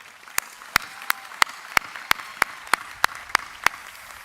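Audience applause at a university commencement ceremony, heard as a thin scattering of about a dozen sharp, separate claps at an even pace, rather than full sustained applause.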